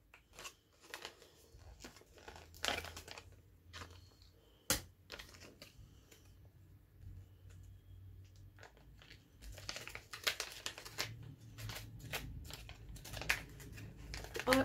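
An Organic Harvest skin-brightening sheet face mask packet is opened with quiet crinkling, scattered sharp clicks and a tearing snap. The rustling is faint and intermittent over a hushed room.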